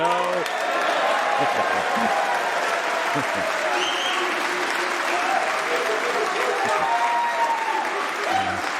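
A snooker crowd at the Champion of Champions semi-final applauds a shot with sustained, even clapping throughout, while a commentator's voice talks over it.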